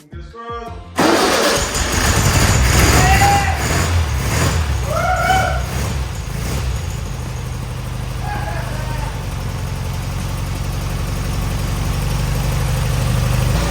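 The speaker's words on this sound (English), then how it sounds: "I thought that this engine is trash, and it started just like that." A 1973 Volkswagen Super Beetle engine, left sitting outside for 15 years, cranks briefly, catches and roars to life, then settles into a steady, loud idle with irregular clatter, with a few faint voices over it.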